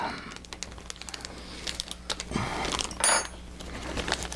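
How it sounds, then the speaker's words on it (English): A plastic parts bag from a 1931 Model A two-door sedan 1/16 scale model kit is cut open, giving soft crinkles and small rustles, with a brighter crackling burst near the end, close and quiet. "So let's just cut this bag open."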